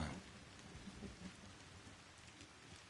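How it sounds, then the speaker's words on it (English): Rain splashing in the video game Mandragora, a dense, steady patter of drops with faint low rumbles beneath, quiet and without voices. "The rain splashing, my mother's labored breathing, and the sound of a mandrake screaming."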